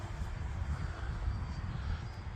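An FMS Zero RC model airplane flying near full throttle through a long turn on a windy day gives a faint, steady propeller-and-motor drone, distant and smooth, with a low windy rumble underneath.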